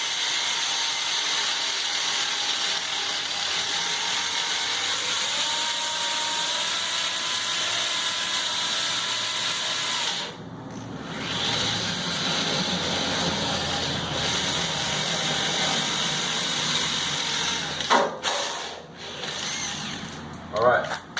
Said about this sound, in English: The drill bit, it's cutting and drilling, and apply some steady pressure.